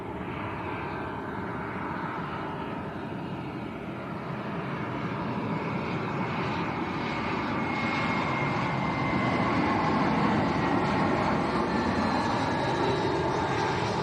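A British Airways A321 airliner from Gatwick roars at Lanzarote's Arrecife Airport, a loud, sustained jet rumble that swells slightly as it passes, with no talking.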